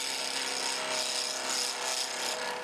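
A turning tool rides the bevel on a spinning snakeskin acrylic pen blank on a lathe, giving a steady, close scraping hiss with a constant whine underneath and no talk.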